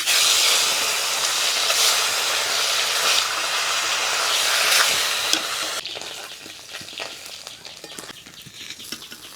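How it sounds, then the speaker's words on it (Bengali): Bata fish tails fry in hot oil in a rustic village kitchen, giving a loud, steady hiss and sizzle for about six seconds before it drops to a quieter, crackling simmer. No one speaks. "এবারে নেজাগুলো ভাজবো।"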